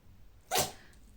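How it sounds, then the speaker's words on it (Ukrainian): A dog sneezes once indoors, a single short, sharp burst rising out of quiet room tone. "це моя собака чхає"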